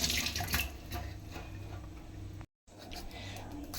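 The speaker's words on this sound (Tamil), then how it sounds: "சக்கரவள்ளி கிழங்க ஃபர்ஸ்ட் கழுவிக்கலாம்" Sweet potatoes being washed under a running tap for a home-style payasam, a steady close splash of water with small knocks, briefly cut off before resuming, while a voice talks over it.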